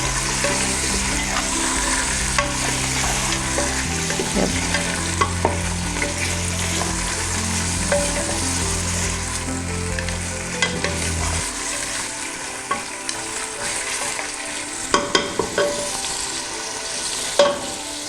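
Pieces of chicken sizzle and fry in a pot for a desi chicken curry, with a steady loud crackle broken by repeated scraping stirs of a spoon against the pot.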